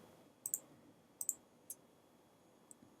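A computer keyboard clicking in a quiet room: a few sparse, crisp key presses, some in quick pairs, with gaps between them.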